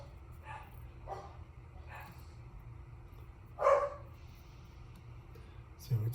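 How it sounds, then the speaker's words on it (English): A pet dog barks a few times at a distance on a Sunday, short separate yips spaced over several seconds against quiet room noise, with one louder bark near the middle. "So it's Sunday, and that means dog bark day."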